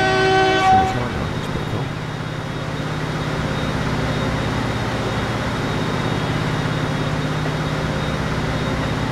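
Train in the video game Transport Fever 2: a short horn blast at the start, then a steady loud rumble of rolling rail cars continuing evenly.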